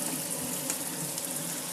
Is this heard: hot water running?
yes